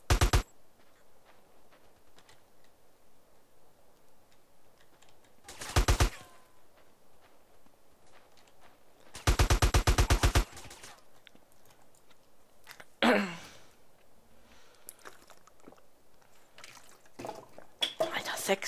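Several loud bursts of rapid gunfire from the video game SA-MP (GTA San Andreas Multiplayer) break through a quiet background, separated by long pauses and a few faint clicks.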